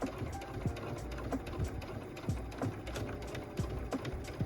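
A sewing machine stitches fabric for a glasses case with a quiet, steady mechanical whir, soft regular needle thumps ticking through it at a slow, careful pace.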